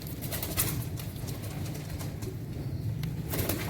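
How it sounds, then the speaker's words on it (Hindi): A pigeon coos softly at a close distance in repeated low calls, with light background noise and no talking. "ये जी एक ये कबूतर है जी, ये भी इनका टैडी कबूतर है जी।"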